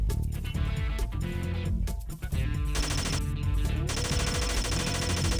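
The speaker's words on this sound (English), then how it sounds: "I hear the gunfire of the Uzi" Rapid Uzi bursts ring out in a radio-style drama set in a derelict building with rotten floorboards, sharp automatic fire layered over a loud, busy background of music and effects.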